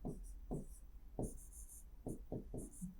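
Pen strokes scratch across paper while names are written by hand, each a short, soft, close rasp in a steady irregular rhythm, no talking.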